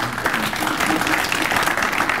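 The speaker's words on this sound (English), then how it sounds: "So you can go ahead and clap," Audience at an Indian community business roundtable clapping steadily for a couple of seconds, a dense, even patter of many hands at moderate level with faint voices mixed in.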